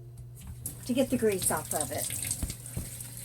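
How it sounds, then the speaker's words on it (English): Hot tap water runs over ground beef in a kitchen colander, rinsing off the grease, a soft continuous splashing under a person speaking. "I'm going to rinse it with some hot water"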